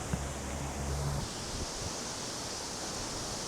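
Strong wind on a camera microphone fitted with a furry dead cat windscreen, heard as a steady, muffled broadband rush with brief low thumps early on and no voices.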